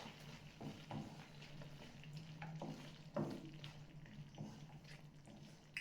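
Chopped onions stirred in a hot pan for a Mangalorean prawn ghee roast give a steady sizzle, broken by a few soft scraping and clattering strokes of the spoon.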